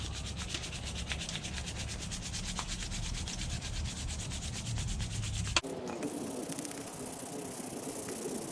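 A horseshoe knife handle is being sanded by hand outdoors near a fire, making a steady, close, rhythmic rubbing scrape that shifts to a rougher, different texture partway through, with no voices.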